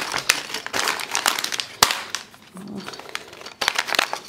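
A Lego Ninjago minifigure comes out of a plastic bag from a magazine issue, with sharp crinkling and crackling of the packaging in bursts, close to the mic, easing briefly midway.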